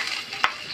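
Garlic browning in hot oil, a short steady sizzle heard up close with one quick stirring scrape in the middle.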